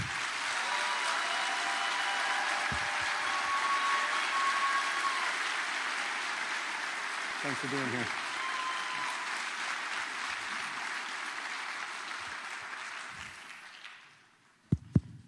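Sustained audience applause welcoming the guest speaker Dr. Chetan Sadri at a tuberculosis author talk, a dense crowd clapping steadily for about fourteen seconds before fading out, followed by a brief spoken thanks.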